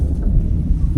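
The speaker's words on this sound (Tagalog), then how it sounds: "na may hangin guys." Wind buffets a microphone outdoors on a kayak fishing trip, a steady close low roar filling the whole second with no talking.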